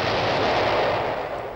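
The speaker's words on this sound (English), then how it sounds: "The tanks shell the barracks." Tanks shelling a Greek Cypriot National Guard barracks during the 1974 Turkish advance on Cyprus, heard as a dense, continuous roar of loud gunfire and artillery blasts with no pauses, sustained throughout.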